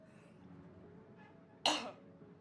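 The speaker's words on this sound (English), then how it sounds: "I'm about to cough" One sharp cough bursts out over a quiet room background, loud and close, after a faint earlier throat sound.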